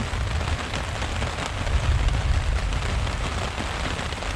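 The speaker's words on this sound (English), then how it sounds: "Heavy rain, lots of lightning, loud thunder." Heavy thunderstorm rain pours down in the Quetico wilderness in a loud, continuous wash, with a deep rumbling low end of thunder running underneath throughout.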